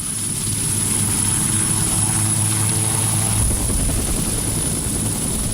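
A helicopter flies on approach to a landing site in a tsunami-struck coastal town, its steady loud rotor thrum and engine whine continuous and close throughout, no voices.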